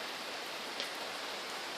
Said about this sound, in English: It's fucking raining hard as shit.